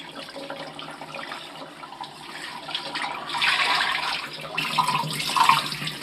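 Tap water runs into a kitchen sink as squid is rinsed, a soft continuous splash that swells and thickens as the squid is moved under the stream, close and alone.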